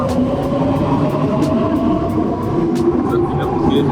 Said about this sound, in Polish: Tutaj wagony linii metra.